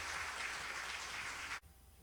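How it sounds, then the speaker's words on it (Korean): A symposium audience gives a speaker a round of applause, a soft, even patter of clapping that cuts off abruptly near the end into quiet room tone. "최광원 교수님께 다시 한번 큰 박수 부탁드립니다."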